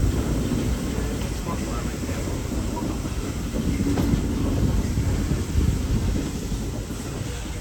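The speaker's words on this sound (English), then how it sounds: "They're the oldest trains on the network." Steady rumble of a train rolling along rails, continuous and fairly close, with a broad low roar and faint rattling throughout.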